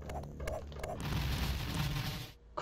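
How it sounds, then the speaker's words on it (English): A grenade explodes in the Amiga AGA game D/Generation: a few short mechanical clicks, then a harsh, rumbling electronic blast that lasts over a second before cutting off. "Now we've got to do some grenade action."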